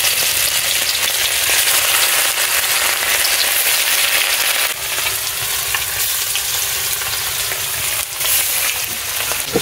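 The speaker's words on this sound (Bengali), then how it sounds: "মাছটা ভাজা হচ্ছে, একটু কড়াইটা ঘুরিয়ে ঘুরিয়ে দিলে সব দিকে ভাজা ভালো হবে।" Fish fries in smoking-hot oil in a wok, a loud, continuous hissing sizzle close to the pan that holds steady throughout with slight swells as the wok is swirled.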